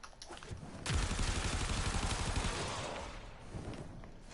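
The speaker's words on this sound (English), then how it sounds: "Spawn 20 enemies, and we're going to do a quick carpet bombing run" Carpet bombing run against spawned enemies in Warframe: a sudden loud blast opens a sustained rumbling barrage of rapid explosive impacts that gradually fades, with a few softer hits near the end.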